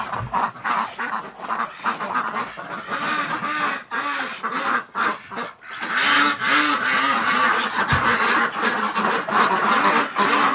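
Many ducks packed in a shed quack and honk at once in a noisy, crowded chorus, close by and continuous, with overlapping calls throughout.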